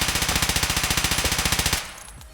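Sustained full-auto burst from an MCX rifle in Escape From Tarkov, a rapid, even rhythm of about twenty-five close, loud shots lasting almost two seconds, then cutting off into a fading echo.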